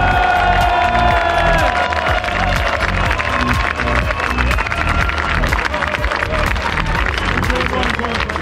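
A large crowd at the Bilbao start of the 2023 Tour de France cheers and applauds a cyclist, with loud continuous cheering and clapping and a commentator talking over it.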